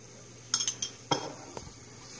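Garlic stirred in a pan while making fettuccine Alfredo, with a few quick metallic clinks of a utensil against the pan followed by a soft scrape, close and fairly quiet, no talking.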